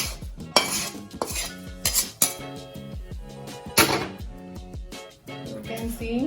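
Spoon stirring drumstick pickle with tadka in a metal bowl, sharp clinks and scrapes of utensil against steel at an irregular pace, close by, with a voice talking over it.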